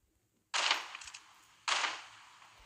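Two loud, sharp gunshots from a weapon in the Call of Duty video game, about a second apart, each with a short decaying tail, alone with no talking.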